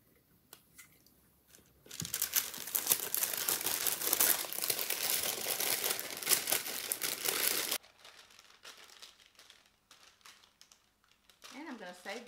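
Wax paper is crumpled and crinkled for several seconds in a home kitchen, a loud dense rustle close to the mic, with softer handling noises and a voice afterwards.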